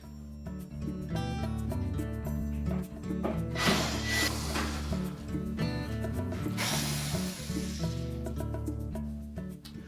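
Screws are being removed from the front corners of a Whirlpool range cooktop, heard as steady close-up ratcheting clicks with rubbing and a rising mechanical whir partway through.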